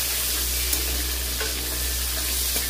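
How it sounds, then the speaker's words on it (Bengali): Tomato is stirred in hot oil with cumin seeds in a pan: a continuous close sizzle with occasional light scraping taps of the spoon and no talking. "টমেটোকে একটু নাড়বো"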